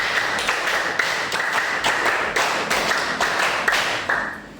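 A classroom of pupils claps a counted rhythm in unison, sharp hand claps coming in short grouped bursts with brief pauses between sets, fairly close and steady throughout.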